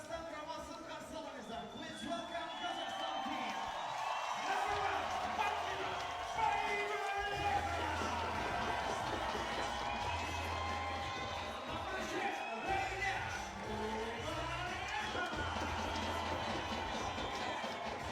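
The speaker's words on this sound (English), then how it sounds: "can hear the crowd here in Astana letting the host hear it" Crowd noise fills an arena at a 3x3 basketball game in Astana, Kazakhstan, a steady roar of cheering with whoops and ball bounces, carrying on under an announcer's voice.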